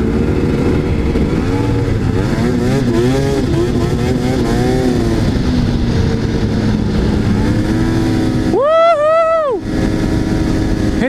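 A snowmobile engine revs hard while riding and drifting, a loud, steady droning buzz with wavering pitch, then a sharp high rev surge near the end before settling back.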